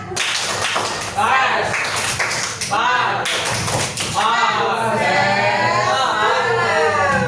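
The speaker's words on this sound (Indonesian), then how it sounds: "sekali lagi kita tepuk semangat" A class of students doing an Indonesian rhythmic spirit clap, loud patterned clapping in bursts alongside a teacher's voice and children chanting.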